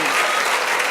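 Sustained applause from a church congregation at a Spanish-language worship service, a thick continuous roar of many clapping hands with no pauses.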